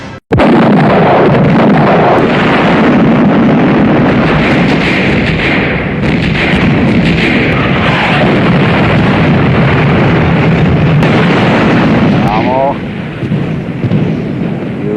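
Massive artillery guns fire in a war-film battle scene, a continuous, overwhelming roar of booming blasts and rumbling that stays loud throughout before easing slightly near the end.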